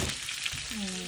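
A large onion fries with mustard seeds in a pan of hot oil, a brief, steady crackling hiss throughout.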